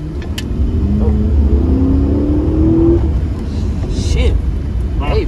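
A Chrysler 300C R/T accelerating, its engine rumbling and rising in pitch over a few seconds from inside the car, with people talking over the roar and occasional sharp clicks and road noise.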